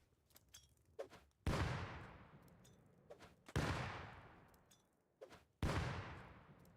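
Gunfire in the video game Rust: three heavy, booming shots spaced about two seconds apart, each with a long decaying echo, with faint clicks and small movement noises between them.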